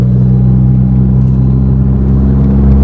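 Tata Altroz CNG hatchback with a three-cylinder engine and aftermarket exhaust, a loud, close, steady low rumble holding at an even idle-to-rev drone throughout, no speech.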